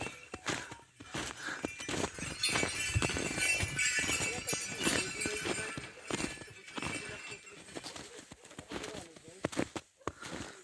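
A mare's hooves clip-clop unevenly on a hard surface under people talking, with scattered clatter and knocks around them.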